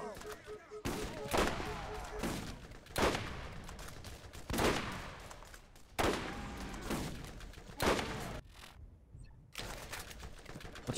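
Borderlands game gunfire, repeated sharp bursts of shots about once a second, loud and close, with a voice talking over parts of the firing.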